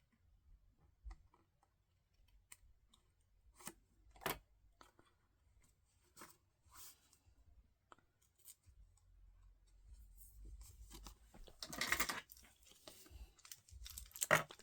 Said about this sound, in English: I'm gonna have to like trim this and then rough the edge up a little bit.